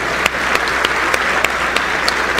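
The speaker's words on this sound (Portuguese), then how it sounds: "Eu queria pedir uma salva de palmas para todo mundo que ajudou" An audience gives a round of applause for donors during a live talk, a steady wash of many hands clapping with a few sharper individual claps standing out in a regular beat, sustained throughout over a low hum.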